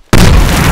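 A grenade goes off in Medal of Honor Warfighter, one sudden loud blast that breaks a moment of near silence and holds as a heavy, rumbling roar.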